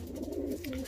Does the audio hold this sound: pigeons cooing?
yes